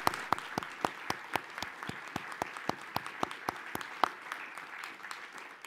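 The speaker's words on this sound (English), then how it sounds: "I'd like to acknowledge her book with a round of applause." Sparse applause breaks out at the Goldsmith Awards ceremony, with a small audience clapping in a light, slightly uneven rhythm that continues steadily for several seconds, close and moderately loud with no speech over it.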